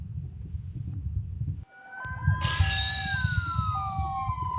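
A wailing emergency siren with sweeping, rising and falling tones cuts in suddenly over a low rumbling background and sounds loud and steady for several seconds.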